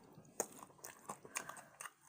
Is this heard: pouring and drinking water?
no